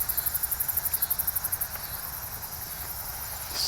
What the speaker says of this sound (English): it'd be kind of interesting to hear all this cricket stuff and all these insect noises